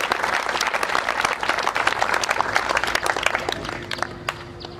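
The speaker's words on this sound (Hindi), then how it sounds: "आप सब लोगों के लिए जोरदार तालियां" A crowd at a 2020 Independence Day gathering in the Sare Homes residential community applauds loudly, a thick, continuous wash of many clapping hands that holds steady and then thins slightly at the end.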